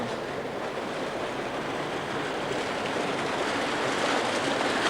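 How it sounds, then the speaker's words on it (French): Glacial meltwater at the Mer de Glace in the Alps rushes into a moulin, making a dense, continuous roar of turbulent water that holds steady and loud throughout, with no voices over it. "Tu vois, ça creuse la glace complètement et tout, comme un fleuve. c'est l'eau de fonte, ça, en fait."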